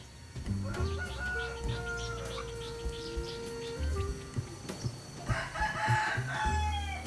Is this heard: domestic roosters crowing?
yes